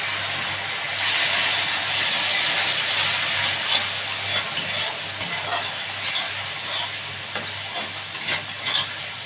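Spice paste frying and sizzling in hot oil for a spicy fish head curry, a steady broadband hiss with occasional crackles and stirring scrapes, close and alone without talk.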